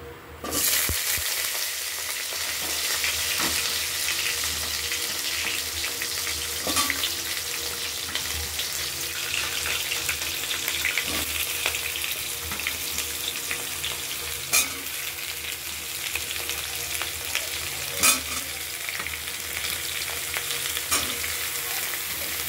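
Vegetables sizzling in a pan with whole spices such as cinnamon and garam masala, a continuous close frying hiss with occasional stirring scrapes and faint clinks, no talk.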